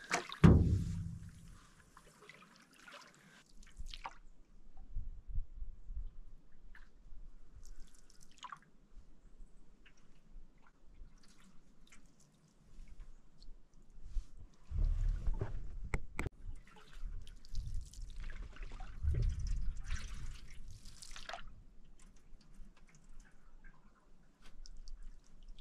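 A canoe is paddled across a low-water Alaskan lake, giving soft irregular drips and splashes from the paddle, quiet and close, with a few stronger swishing strokes partway through.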